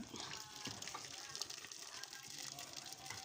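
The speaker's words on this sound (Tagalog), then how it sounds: "Ayan guys, lalagyan na natin ng tubig." Water is poured into a cooking pot holding chicken and seasoning, making a faint, continuous hissing splash that runs steadily throughout.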